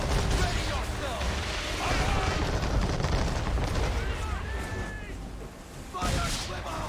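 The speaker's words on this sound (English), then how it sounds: "Fire swivel!" Swivel guns on a ship fire in an Assassin's Creed naval battle, a dense run of booming blasts and crackling impacts that continues throughout, with shouted voices mixed in.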